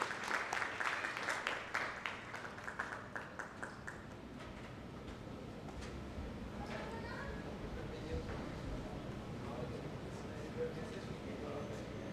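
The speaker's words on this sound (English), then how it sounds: "A round of applause for everyone who participated." Audience applause at an award ceremony for trainers, a dense burst of clapping up front that thins and fades over several seconds and leaves a quieter room with voices in the background.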